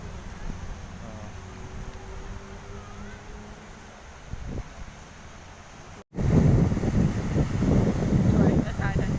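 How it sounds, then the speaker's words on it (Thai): Strong wind and sea surf at Cha-am beach in Phetchaburi. A steady rush of waves sits under quiet talk, and after a brief cut heavy wind buffets the microphone, loud and close. "โอ้ลมแรงมากเลยเป็นทะเล"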